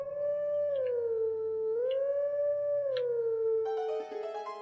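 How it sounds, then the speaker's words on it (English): A wolf howls in the video game Zelda: Twilight Princess, a sustained tonal howl that dips and rises several times, loud and clean, ending as a brighter game chime enters. "we know what we need to howl before we actually start howling"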